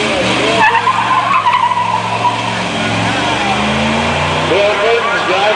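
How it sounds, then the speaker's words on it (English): A 1941 Ford V8 pickup truck races up a vintage hill climb course, its engine droning loudly and steadily throughout with tire noise, while an announcer talks over it. "driving that little Ford pickup"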